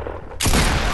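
Gunfire in the Fortnite video game: a sudden loud burst of shooting after a quiet moment, forming a dense, sustained blast that fills the rest of the second.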